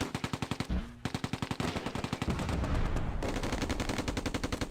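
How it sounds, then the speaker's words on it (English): Heavy automatic gunfire in the WWII strategy game Close Combat: A Bridge Too Far, set at Oosterbeek during Operation Market Garden: rapid rhythmic bursts, then a sustained roar of overlapping shots, then more bursts, loud and close. "Under heavy fire."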